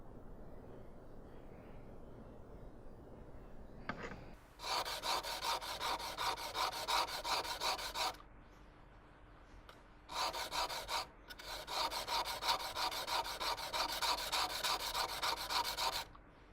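A gasket scraper's bevel is rubbed back and forth on a sharpening stone in long, steady gritty strokes, two extended passes separated by a short pause, close and fairly quiet.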